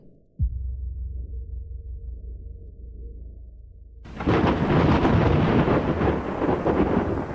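As rain approaches, a deep rolling rumble of thunder grows after a sudden low boom, then swells into a broad, loud roar.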